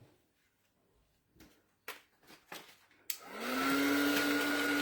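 A heat gun heating embossing powder on acetate clicks on and settles into a loud, steady blowing roar after a few quiet knocks and handling sounds.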